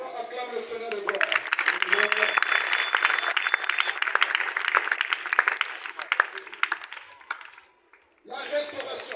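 A church congregation in Congo-Brazzaville cheers and claps in a loud, dense mass of voices and hand claps. The sound drops away abruptly near the end, then a fresh burst starts.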